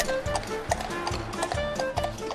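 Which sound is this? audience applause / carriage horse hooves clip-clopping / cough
carriage horse hooves clip-clopping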